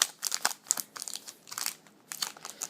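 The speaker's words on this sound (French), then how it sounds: "il y a donc un booster de 10 cartes qui est fourni dans le deck, donc on va l'ouvrir tout de suite" A Yu-Gi-Oh booster pack wrapper of ten cards crinkles and tears close up in irregular crackling bursts, with no talking.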